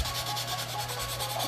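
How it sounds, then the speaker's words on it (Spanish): A cheap nail file sanding a craft piece, a rapid back-and-forth rasping scrape in even strokes, close and fairly loud with no talk. "Voy a empezar a presionar y a lijar. Con una lima de uñas de esas de las baratas."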